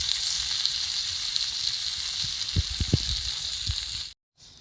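Chicken tikka sizzles steadily on a roti tawa, a constant bright frying hiss with a few low knocks and scrapes near the end before a brief cut to silence.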